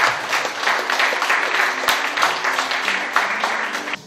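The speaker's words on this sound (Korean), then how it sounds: "우리 이강호 작가님을 다시 한번 박수를 모셔볼까요?" An audience at a book concert in Gyeongnam applauds the author, lively clapping from a nearby crowd that runs throughout, with some murmured voices mixed in.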